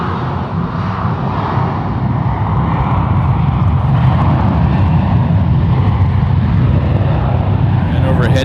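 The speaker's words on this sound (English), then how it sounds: "This is 777 200ER lining up on 28 left, heading to London Heathrow." A Boeing 777-200ER lines up on runway 28 Left at San Francisco International, a steady broad jet-engine roar heard from a distance with voices faintly under it.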